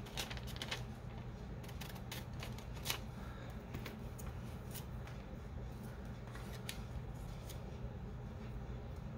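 Scissors cut through a magazine picture for a collage, giving quick, crisp snips in irregular bursts, faint and close over a steady low background hum.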